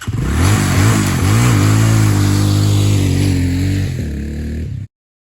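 A Honda Hawk 250 motorcycle engine revving up loud and close, rising and falling through several throttle blips before a steady roar, then a final blip and an abrupt cutoff.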